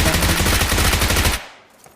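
Rapid automatic gunfire in a video game, a dense sustained burst of shots lasting over a second before cutting off into near silence.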